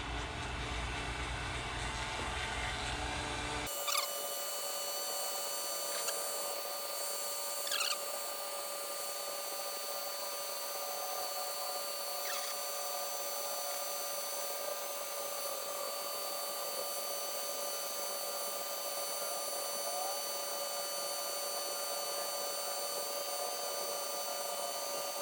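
A hair-dryer-style heat gun runs steadily at close range on a custom door panel for a 4th Gen Camaro, a constant airy whoosh with a faint tonal hum that starts after a short burst of louder noise and holds for the rest of the clip.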